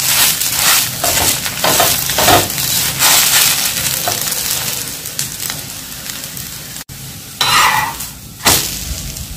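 Chana dal flour flatbread roasting in a hot pan, giving a steady dense sizzle and crackle with occasional scraping or turning noises, close and continuous.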